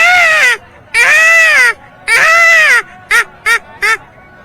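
A man imitates a peacock's call at the Mahakumbh gathering in Prayagraj, with three loud, drawn-out wailing cries followed by three short, clipped ones, close and clear with no other sounds.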